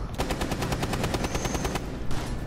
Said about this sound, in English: I saw you shoot him.